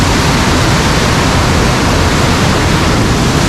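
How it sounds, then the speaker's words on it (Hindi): Dense, steady roar of a heavy cloudburst pouring down in Haridwar, loud and unbroken from start to finish with no voices over it. "देखो भाई ऐसे पानी बरस रहा है इस समय"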